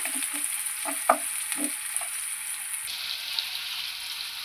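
Chopped onions fry with salt and a little sugar in a pan for a Bengali bottle gourd and shrimp dish, a steady close sizzle with a few soft scraping stir strokes early on.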